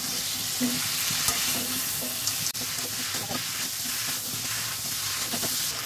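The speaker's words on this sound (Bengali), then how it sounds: "এই মাছের মাথাগুলো আবার আমি দিয়ে দেবো মধ্যে, দিয়ে 2 থেকে 3 মিনিট কষে নেবো" Katla fish heads fry in spice masala in a pan, giving a steady close sizzle with occasional scraping stir strokes and one sharp knock partway through, no voices.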